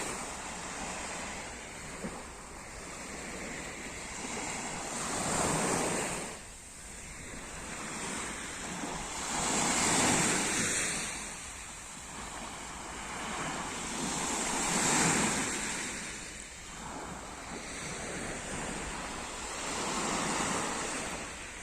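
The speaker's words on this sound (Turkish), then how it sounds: "Biraz dalgaların sesini dinleyin." Sea waves roll onto the beach at Ağva, slow surges swelling and fading every few seconds with steady wind hiss, no voices.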